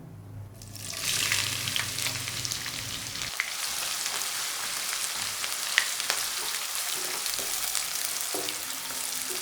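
Two large onions, added to hot oil with fennel seeds, fry with a loud, steady close sizzle that begins with a burst and continues with crackles and stirring, no talking.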